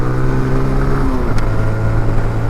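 A TVS Apache RTR 160 2V motorcycle pulls hard in third gear, its engine note steady and loud, then dipping briefly before rising again as it accelerates on the road.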